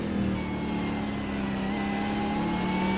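A race car engine drones loud and steady as it climbs Lukey Heights, tucked in close behind another car. The tone holds and rises gently, with no voices over it.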